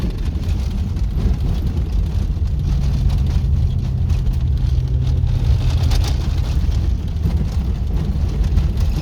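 A car drives on a dirt road in rural western Kansas near the Colorado border, giving a steady, loud rumble of engine and tyre noise on loose ground throughout. No talk.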